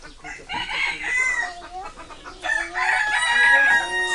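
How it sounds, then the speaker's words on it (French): Several chickens cluck and squawk close by, with a rooster crowing loudly through the second half. "C'est le paradis des poulets."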